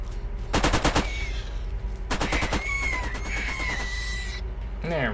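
Automatic turret in Borderlands rattling off two loud rapid machine-gun bursts, the first short and the second longer, with synthetic whines and creature-like squeals in between and a fast chattering sound near the end.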